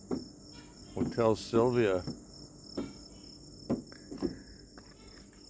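Crickets chirp steadily at night outside a hotel in Indonesia, a thin high continuous trill running through the whole stretch, while someone talks intermittently over it.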